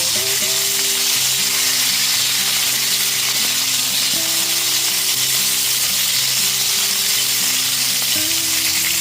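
Potato and drumstick (moringa) pieces sizzle steadily in hot oil in a pan over a medium gas flame, a continuous close frying hiss with faint stirring, no voices.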